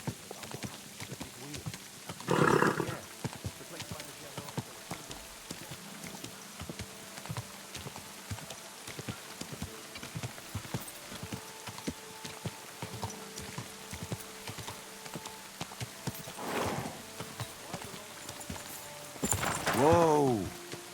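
Horse hooves clip-clop in a steady rhythm in the video game Kingdom Come: Deliverance II under quiet background music, with a couple of louder swells and a brief snort-like burst near the end.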